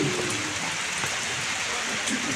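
Steady rain falls throughout, a dense even hiss of drops on surfaces with a few faint voices mixed underneath.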